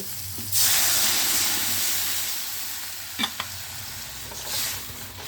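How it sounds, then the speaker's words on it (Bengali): Water poured into a pan of frying vegetables such as potato, radish, eggplant and beans for a Bengali fish curry, sending up a sudden loud hiss of sizzling steam that slowly settles, with a few light clinks. "এবার এর মধ্যে দিয়ে দেব জল"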